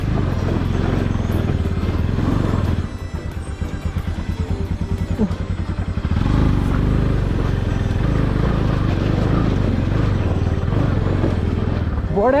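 A Bullet motorcycle grinds over rocks on a rough off-road mountain track, its engine thumping loudly and steadily with clattering from the stony ground throughout.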